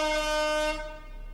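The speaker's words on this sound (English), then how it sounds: "Air horn?" An air horn sound effect in the horror game Corpse Party, one loud sustained blast that stops abruptly, followed by a faint humming tail.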